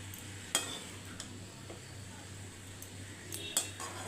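Ridge gourd with coconut being stirred in a pan after salt and turmeric go in, soft faint sizzle beneath light scraping and a couple of sharp utensil taps against the pan.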